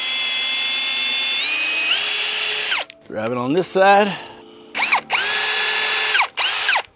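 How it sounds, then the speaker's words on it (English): A power drill bores pilot holes into wood for a homemade squat rack, whining loudly in long steady runs that rise and fall in pitch, with a short spoken remark between bursts. "Drill my pilot holes."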